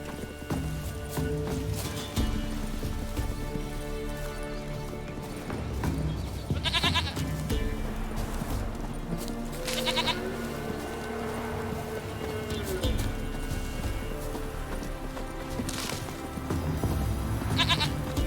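Goat bleating mixed with clip-clopping hooves in The Witcher 3, several bleats rising over a steady game soundscape with tonal music underneath, moderately loud throughout.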